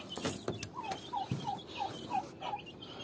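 A turkey gobbles in a quick rippling series of short calls at a moderate distance, with faint background noise and no talking.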